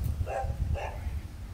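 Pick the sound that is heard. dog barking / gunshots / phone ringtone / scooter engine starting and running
dog barking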